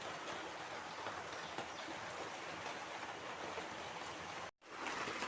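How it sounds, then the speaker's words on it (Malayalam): Heavy rain falling outside, a steady faint wash of hiss that runs unbroken and drops out for a moment near the end. "പുറത്ത് നല്ല മഴയാണ്"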